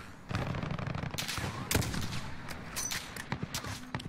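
Gunfire in the Modern Warfare Ground War video game: bursts of shots, with one sharp loud crack near the middle, over steady battle noise and no talk.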